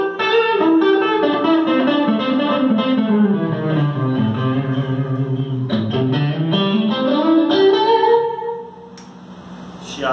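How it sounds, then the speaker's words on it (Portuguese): A SX SST57 electric guitar runs through a tube amp with delay, playing a sustained, gliding run of notes that falls and rises for about eight seconds before dropping to a quiet tail. "Agora sim, posso usar o delay."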